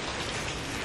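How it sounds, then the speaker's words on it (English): Steady rain falls on a chilly evening in the UK, a dense, even hiss of drops with no voices or thunder. "Chilly rainy evening."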